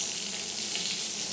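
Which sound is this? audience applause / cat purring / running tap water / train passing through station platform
running tap water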